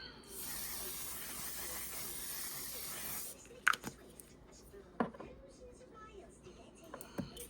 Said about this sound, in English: I forgot to put on my setting spray